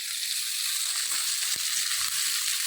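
Fenugreek seeds fry in oil for a curry, giving a steady, fairly quiet sizzling hiss with a few small crackles, close by and with no voices.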